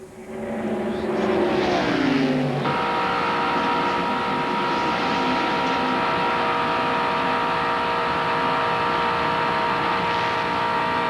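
A 1995 ARCA stock car race at Talladega Superspeedway, with a Chevrolet Lumina among the field: loud, continuous high-revving engine roar from close-passing cars, a pitch sweep as one goes by, then a sustained dense drone.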